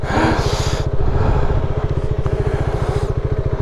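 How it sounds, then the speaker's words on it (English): A trail motorcycle's engine runs close by in Vermont, a loud, rapid, regular thumping putter with a brief throttle rise at the start before settling into a steady chugging rhythm. "I am definitely taking this bike back down."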